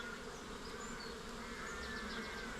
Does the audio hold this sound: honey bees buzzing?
yes